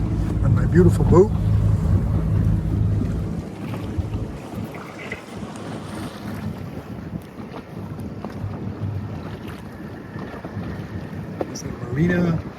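A motorboat cruising on the Ottawa River, its engine hum strong at first then fading, with heavy wind buffeting the microphone and water rushing past; a person speaks now and then.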